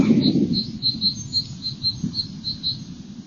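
Small birds chirp in short repeated high notes over a steady outdoor hiss, with a low rumble like wind underneath.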